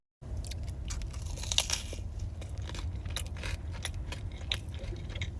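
Cinnamon Toast Crunch cookie from Crumbl topped with a cream cheese glaze, bitten and chewed up close in irregular crisp crunches and soft moist chewing, with no talking.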